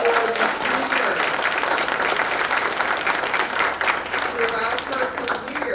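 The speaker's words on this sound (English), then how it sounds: "Can I hear some applause for" A large audience at a fireside chat with a congresswoman applauds steadily, a dense, even wash of clapping that holds throughout at close range.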